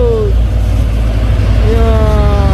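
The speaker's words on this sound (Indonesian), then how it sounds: "Ya, 2 unit truk Hino." Two Hino trucks overtake on the Bukit Kodok hill road. A loud, close diesel rumble drones throughout, with a whining tone that dips and then rises as the vehicles pass.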